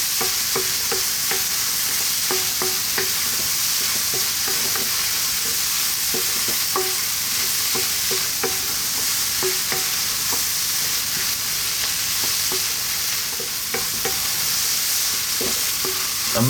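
Ground oregano, chili, paprika and cumin are stirred in a hot frying pan, with steady loud sizzling and repeated scraping strokes of a utensil close up.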